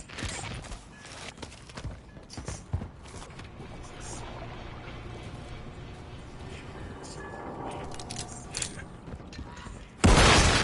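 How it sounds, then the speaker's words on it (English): Detonated charge exploding in Modern Warfare 3 during a Search and Destroy match: a sudden loud, broad blast near the end, after a dense stretch of game noise with clattering effects and in-game voices. "Place the charge. Detonate the target."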